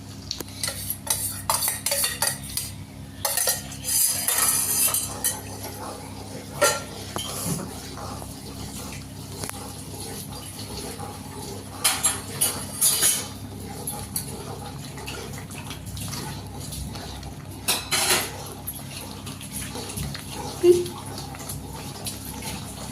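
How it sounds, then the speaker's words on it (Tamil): Repeated scraping and stirring of thickening papaya halwa in a pot, with intermittent clinks and thick, sloshing movement, close up and continuous throughout. "ஸோ கைவிடாமல் கிளறிக்கிட்டே இருக்கணும்."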